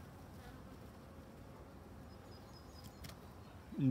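Buckfast honey bees from an open hive buzz in a steady, dense hum during an inspection, fairly faint and continuous, with a brief thump near the end.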